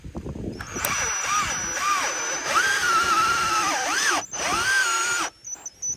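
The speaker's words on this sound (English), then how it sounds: "I've got a long extension on my actual drill here" A power drill with a long extension drives a screw, whirring loudly up close in several bursts, its pitch dipping and rising as it bears down under load, then stops abruptly.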